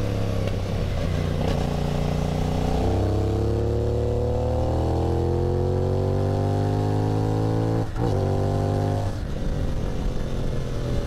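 CFMoto 450SS motorcycle engine under way on a ride, a steady loud drone that climbs in pitch as it accelerates, dips briefly at a gear change, then rises again.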